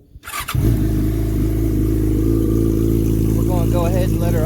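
A Yamaha R6 motorcycle engine cranks and fires up, then settles into a loud, steady idle with a rough throbbing tone close by, with a voice speaking over it near the end.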